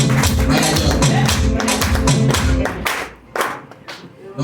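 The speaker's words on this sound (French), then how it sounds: "Non, on applaudit" Audience applause at a Forever Living business gathering in Togo, loud rhythmic clapping over a background music beat, thinning into scattered claps toward the end.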